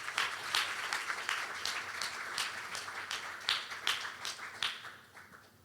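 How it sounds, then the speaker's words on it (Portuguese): Conference audience at an industrial cybersecurity event claps for the panelists, brisk applause that thins toward the end into a few scattered claps. "Les pido un aplauso para los panelistas."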